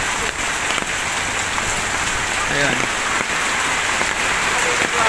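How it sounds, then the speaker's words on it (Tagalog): Heavy typhoon Kristine rain pours in a dense, continuous hiss that drums loudly on surfaces, with a voice briefly speaking over it. "sa lakas ng ulan"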